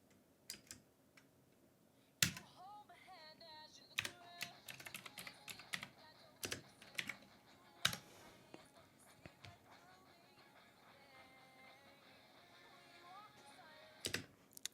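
Quiet computer keyboard clicks scattered through the clip, with a few sharper presses of the numeric keypad Enter key standing out, over faint background music and a soft voice.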